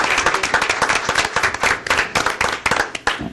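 An audience at a county commission meeting applauds an employee marking 20 years of service. The applause is steady and dense, a room full of hands clapping at moderate loudness for a few seconds with no talking.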